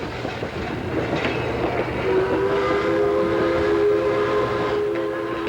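Pennsylvania Railroad passenger cars of about 1896, running as the Broadway Limited on an anniversary excursion, rumble along the rails with a steady roar while a sustained whistle tone sounds midway.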